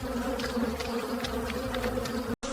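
A dense swarm of honeybees drones steadily at a wild nest being raided by a pregnant honey badger, a continuous close buzz with faint higher whines, cut by a brief drop near the end.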